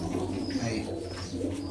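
A pigeon coos softly and continuously in a pigeon keeper's loft, a low murmuring call that sits close but quiet against light background noise.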